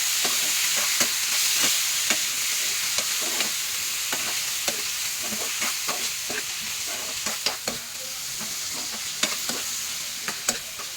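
Marinated chicken fry stirred in a hot pan, a continuous close sizzle with scattered spoon scrapes and clicks against the metal, steady throughout with no talking.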